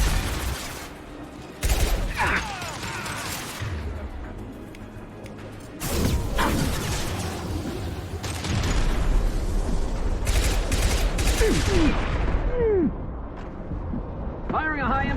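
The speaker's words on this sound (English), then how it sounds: "Firing a high-impact shot." Gunfire in the sci-fi shooter Mass Effect 2 during a fight alongside a krogan super soldier, loud volleys and sharp cracks with crashing impacts through a dense battle, a voice speaking at times.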